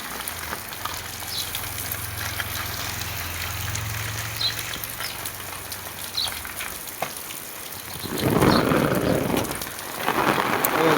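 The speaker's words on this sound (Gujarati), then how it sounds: "વરસાદ ગાંડો છે બસ." Heavy monsoon rain pours steadily over a flooded village by a swollen river, a dense close hiss throughout. A low rolling rumble of thunder runs under the first half, and the downpour surges louder for a moment near the end, with no talking.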